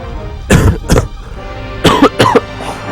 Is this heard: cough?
yes